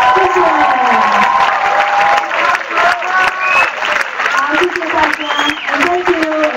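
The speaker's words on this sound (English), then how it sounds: "with your big applause to them" Audience at an iEARN closing ceremony applauds loudly with cheering, a thick wash of clapping while voices call out and talk over it.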